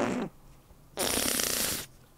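A mouth-made fart imitation on a podcast, a short raspy burst at the start, then a louder, sustained buzzing raspberry lasting about a second, close to the microphone with no talking.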